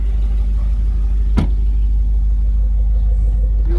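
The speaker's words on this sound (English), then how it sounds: "hear that deep rumble when you open up the exhaust." The engine of a 2020 Jaguar F-Pace SVR with its exhaust open gives a deep, steady low rumble, loud and close, broken only by one brief sharp tick.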